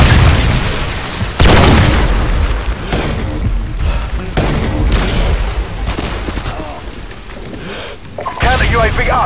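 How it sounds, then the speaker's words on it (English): A Predator missile strike in Call of Duty: Modern Warfare 2 multiplayer: loud, deep booming explosions and rumbling blasts rolling through several seconds amid other game sounds, with a final sharp burst near the end. "Friendly Predator missile inbound."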